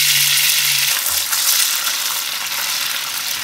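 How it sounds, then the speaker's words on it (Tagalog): Canned meatloaf fries in a non-stick pan, a loud, continuous close sizzle and crackle with a brief low hum at the start. "Lutuin na natin yung meatloaf."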